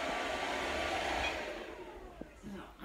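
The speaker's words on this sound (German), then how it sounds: "Mal eben den Staubsauger aus." A vacuum cleaner runs with a loud whining roar, then is switched off, its motor winding down over the last second into quieter room sound.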